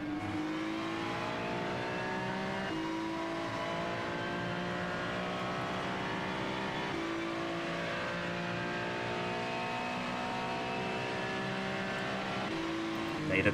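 On-board race car engine in a sim racing endurance event, the 4 Hours of Sao Paulo, a steady loud engine drone with shifting pitch as it revs and changes gear, continuous throughout.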